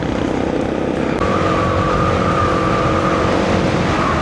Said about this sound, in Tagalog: lumabas kasi biglang may bumibilis pong sasakyan